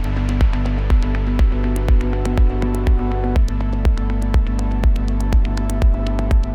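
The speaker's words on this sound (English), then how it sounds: "softer kicks tend to be used for softer genres, like melodic house and organic house" Soft kick drum in a melodic house track, thumping in a steady regular pulse about twice a second beneath sustained melodic chords and synth tones, with no voices.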